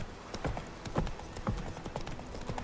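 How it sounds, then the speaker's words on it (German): Steady rhythmic hoofbeats clatter along at a quick gallop in the video game The Witcher 3: Wild Hunt, evenly paced and fairly close, with a faint background ambience. "Und das Pferd reitet also so automatisch."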